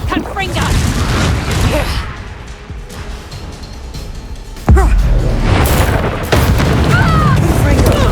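Confringo fire-spell explosions in the video game Hogwarts Legacy: loud, booming blasts that land one after another, with a sharp hit near the middle and another shortly after, over constant rumbling action noise and occasional voices.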